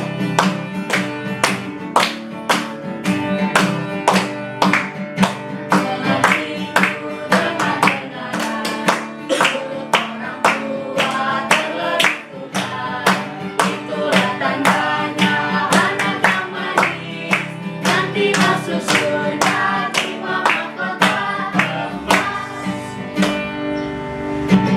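Children at a Sunday school worship service clap along to a praise song, steady evenly spaced claps keeping the beat under continuous sung music with accompaniment throughout.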